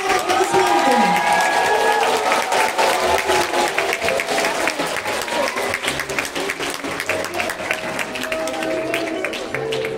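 Steady, dense applause from a crowd in a school hall at a primary-school farewell ceremony in Anadyr, Chukotka, sustained and fairly loud throughout with some murmuring mixed in.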